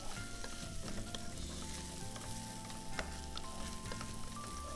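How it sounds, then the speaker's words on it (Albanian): Food sizzling and frying in a pan, a steady dense crackle with occasional pops and stirring, close and continuous throughout with no talking. "e skuqim pak"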